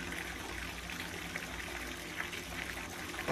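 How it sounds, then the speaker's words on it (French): Steady broadband rush of running water from a shower, continuous and fairly close, with no talk over it. "Quelqu'un se douche."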